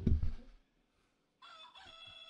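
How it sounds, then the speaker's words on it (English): A rooster sound effect plays: a brief low thump, a moment of silence, then a thin, faint crow that is cut short. "Start the rooster."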